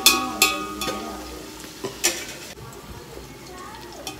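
Ginger paste fries in hot oil in a pan for rice cooking, a soft continuous sizzle under sharp clinks and scrapes of a utensil against the pan, loudest at the start.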